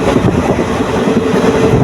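Jan Shatabdi Express passenger train rolling along from Coimbatore toward Tiruchchirappalli, a steady loud rumble of wheels and carriage noise throughout, heard close up with no voices.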